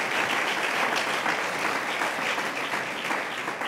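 A church congregation bursts into warm, sustained applause for the word of God, a dense clapping crowd that stays loud and even before easing slightly, with no speech over it.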